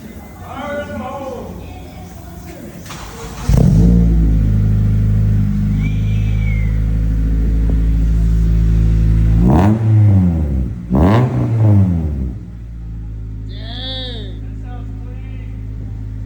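A Honda Civic EP3 with Circuit Werks headers and a Skunk2 MegaPower exhaust revs hard and roars with deep, loud bursts that rise and fall, while people shout and cheer over the noise.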